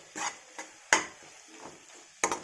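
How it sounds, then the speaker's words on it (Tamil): A utensil scrapes and knocks against a pan as prawns are stirred into thick masala gravy. Several short strokes with a soft background sizzle, and a couple of sharper clinks stand out. "எறாவை போட்டு மிக்ஸ் பண்ணிடலாம்."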